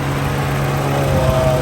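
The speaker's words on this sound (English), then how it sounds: "let's take a listen to the engine." A 1991 Geo Tracker with a 1.6-liter fuel-injected engine idles close by, a steady low hum with a faint whirring cooling fan, heard alone for a brief moment.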